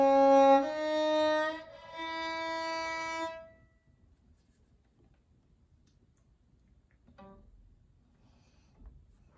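A string instrument sounds a short phrase of sustained harmonic-rich notes, low D then high G and back down, followed by near silence and faint ticks.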